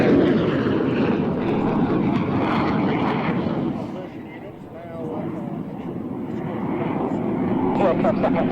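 A high-performance military jet roars past, a loud sustained engine rush that dips briefly midway and swells again, with people talking over it.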